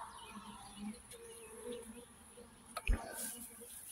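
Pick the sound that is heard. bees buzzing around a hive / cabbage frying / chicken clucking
bees buzzing around a hive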